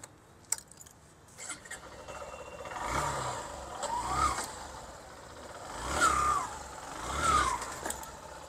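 A Honda Shine 100cc motorcycle engine idles and is revved several times, with four rising-and-falling throttle swells in close succession after a few sharp clicks at the start, heard nearby with no talking.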